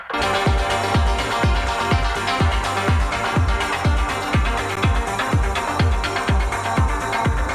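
Repeating metallic synth percussion hits from a granular synthesis patch in Arturia Pigments 2, sidechained to the kick, in a steady rhythm, bright clangy tones over a punchy low pulse, loud and continuous with a touch of reverb.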